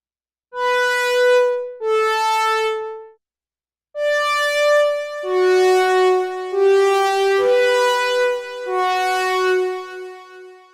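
Bright synthesizer notes in sustained tones, each held and overlapping with echoing repeats from a tempo-synced quarter-note delay at 40% feedback and 30% mix, a short gap after the first two notes.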